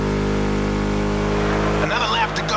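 A V8 car engine in The Crew Motorfest racing game drones with a deep, steady, chunky rumble, loud and continuous, before a voice starts talking over it near the end.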